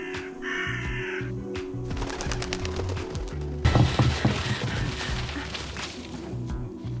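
Crows caw in harsh, repeated calls over a busy, clattering background that grows louder and denser partway through.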